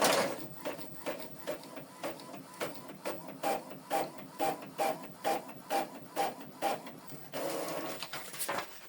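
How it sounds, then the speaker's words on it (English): An Epson Workforce printer prints a test page with a rhythmic series of close mechanical clacks and whirs, about two per second, ending in a sustained feed whir, with no talk. "print test page to show you that the printer is connected"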